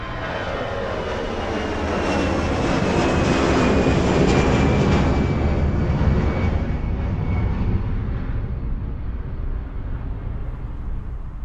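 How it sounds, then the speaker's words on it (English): A jet airliner takes off at an airport and passes directly overhead, a loud sustained engine roar with a whining tone that swells, peaks, then slowly fades as it recedes. "Experience how capable the Auro-3D system is at reproducing the exact position of an airplane as it passes by, from taking off to flying directly overhead"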